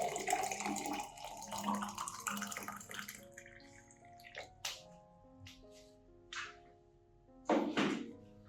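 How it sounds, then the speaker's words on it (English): Warm water being poured while propagating orchids, with a splashing pour at first followed by scattered drips and small splashes. "Add 500 milliliters warm water"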